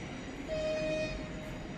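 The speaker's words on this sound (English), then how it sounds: "I can hear a train." A faint, distant train in Riga, Latvia, sounds a brief horn tone over a low rumble of city background noise.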